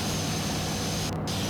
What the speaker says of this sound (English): a jet plane high up.